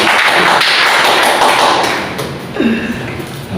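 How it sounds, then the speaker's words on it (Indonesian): Louder clapping from a workshop audience, a dense wash of many hands that thins toward the end, with a thud and a brief tone near the close. "Kurang kencang, tepuk tangan yang kencang."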